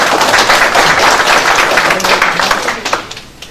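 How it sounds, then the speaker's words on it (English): Council meeting audience applauding, a dense steady wash of many hands clapping at close range that tapers off toward the end. "We applaud you."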